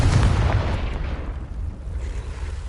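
Confringo fire spell blast in Hogwarts Legacy, a loud, deep booming explosion at the start that rumbles and fades over a couple of seconds, heard alone.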